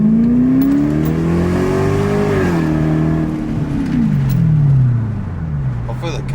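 Lexus SC400 engine with an aftermarket modified exhaust, taken through a throttle rise and long sweeping fall, a close, loud exhaust note droning steadily with a slight rasp.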